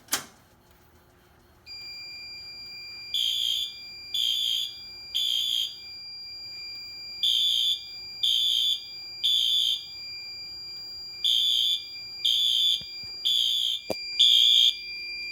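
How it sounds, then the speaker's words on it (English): Fire alarm set off by a 5060S dual action pull station: a sharp click, then a steady hum, then loud shrill electronic alarm pulses in groups of three, repeating in a regular temporal pattern, close and with no voices. "now I'm going to go ahead and activate the 5060S dual action pull station"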